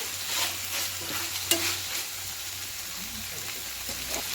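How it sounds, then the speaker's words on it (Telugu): Chicken liver and gizzards fry in hot oil in a pan, a continuous close sizzling hiss broken by stirring scrapes and one sharp clink of a utensil. "ఇవన్నీ ఆయిల్లోనే బాగా ఫ్రై చేసుకోవాలండి"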